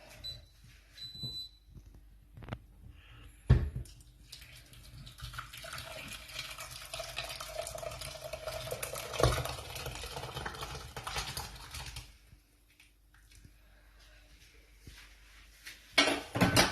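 Barley semolina soup (tchicha) poured into a saucepan and stirred, giving a long stretch of liquid pouring with metal scraping and clinking of a utensil against the pan, framed by brief louder knocks at the start and end.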